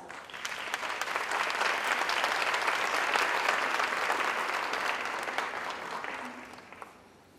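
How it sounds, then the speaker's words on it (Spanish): A university audience welcomes a visiting lecturer to a conference with applause that builds, holds as a full, dense roar of clapping, then tapers off near the end. "Doctor Cristóbal Suárez, le damos nuevamente la bienvenida al ITESO con un fuerte aplauso."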